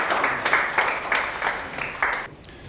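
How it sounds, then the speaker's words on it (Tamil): Audience applause at a Tamil poetry book launch ceremony, clapping arriving in several swelling bursts about half a second apart, moderately loud, fading at the end. "உங்கள் பலத்த கரகோஷங்களினிடையே இதோ கவிதை அனுபவம் நூல் வெளியீட்டு விழா"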